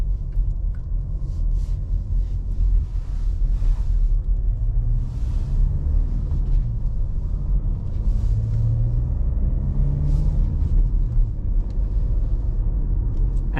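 Steady low engine rumble and road noise from a 2021 Volkswagen Tiguan with the 122-horsepower 2.0 TDI diesel and manual gearbox as it pulls away, heard from inside the cabin, continuous and fairly loud with no talking.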